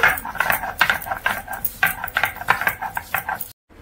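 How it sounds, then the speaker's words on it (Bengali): Ginger being ground into a paste makes rhythmic scraping and rubbing strokes, repeated quickly and close by, stopping abruptly near the end. "আদাটা বেটে নিচ্ছি।"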